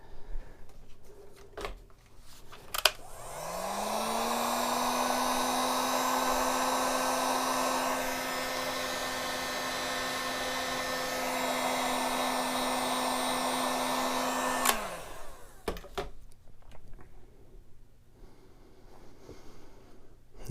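Heat gun shrinking heat shrink tubing during a dynamo hub installation, a steady blowing whine that clicks on, runs evenly for about twelve seconds close by, then clicks off, with no talk.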